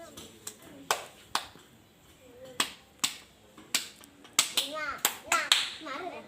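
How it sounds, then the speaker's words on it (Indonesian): Sharp, separate hand claps at an uneven pace, sparse at first and then coming faster, as children clap along during a maths lesson on counting. Children's voices can be heard between the claps. "Tepuk 6."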